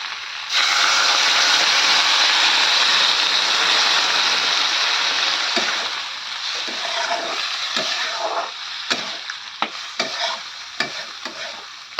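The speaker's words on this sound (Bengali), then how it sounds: "এবার আমি দিয়ে দেবো জল।" Water poured into a pan of browned fish curry with onion flowers, a broad steady rush that starts loud and close, then fades into scattered splashes and sizzling bubbles.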